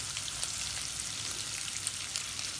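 Prawns frying in hot oil for a masala fry, a steady dense sizzle with fine crackling pops, close and continuous throughout with no voices.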